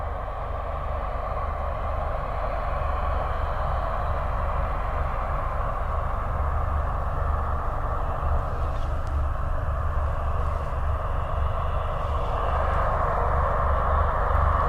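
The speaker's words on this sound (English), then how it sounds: "So we've got two of those props actually going. It's probably just doing an engine run and a test. That's the sound that you can hear." Propellers of a Hercules aircraft turning during an engine run test at RAF Mildenhall, a loud, steady, droning roar heard from a distance without speech.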